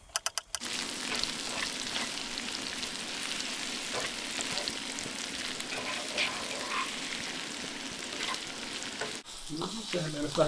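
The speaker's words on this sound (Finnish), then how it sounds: "Sehän meillä vähän kiehuu yli." Pot boiling over on a Biltema camping stove, a steady close sizzling and bubbling hiss that runs almost the whole way, opening with a few sharp clicks and briefly dipping near the end.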